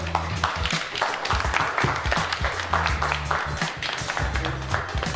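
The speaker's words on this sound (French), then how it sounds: "Je veux que vous applaudissiez avec moi notre frère Fodé Kamara Kareka qui est derrière." A crowd applauds steadily for the whole stretch at a soccer tournament event, dense clapping mixed with a low, sustained musical tone underneath.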